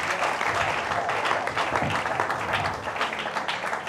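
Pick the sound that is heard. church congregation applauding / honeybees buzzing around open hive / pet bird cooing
church congregation applauding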